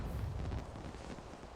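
Fireworks going off in The Sims during a chaotic legacy challenge, a steady rumbling crackle of low booms and bursts that runs continuously, moderately loud, with no talking over it.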